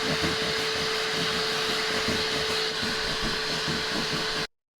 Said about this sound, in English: So let's see if this Bissell machine will work on getting this stain removed